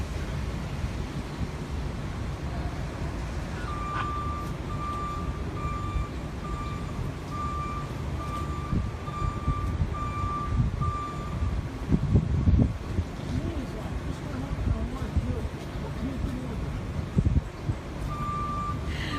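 A truck's reversing alarm beeps in a steady repeating pattern for several seconds, set against a constant rumble of wind and engine noise outdoors.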